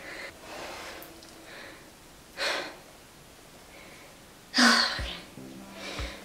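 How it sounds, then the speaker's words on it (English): A woman breathes heavily through her nose and mouth while sectioning her thick type 4 hair, with a few audible gasping inhales and exhales standing out above a quiet background and brief room noise. "You hear how I'm like heavy breathing?"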